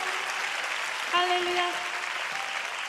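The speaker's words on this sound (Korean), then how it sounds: "다시 한번 영광의 박수 올려드립니다." Audience applause at a prayer meeting in the USA, a steady wash of clapping throughout the clip, with a voice briefly calling out over it.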